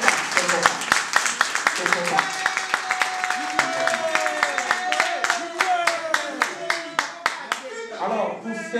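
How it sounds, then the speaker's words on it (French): An audience claps rhythmically at a press conference for a singer, with sharp in-time hand claps close by and a vocal tone held over them, and voices rising near the end. "je vous demanderai d'applaudir"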